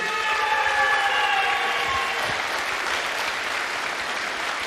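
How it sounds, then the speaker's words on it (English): Loud, continuous clapping from an audience after the final of the 2024 UK Open Pool Championship, with a brief tonal whine early on that fades beneath the steady applause. "Give him a round of applause, everyone."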